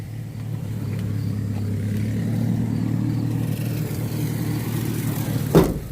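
A 1973 Dodge ramp truck with a 318 engine idles steadily close by, a low continuous rumbling drone with slight unevenness, ending in a brief clunk near the close, with no voices.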